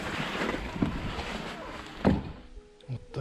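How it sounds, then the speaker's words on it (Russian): Gusty wind buffeting the microphone with low rumbling roar and thumps, fading toward the end. "Сильный ветер."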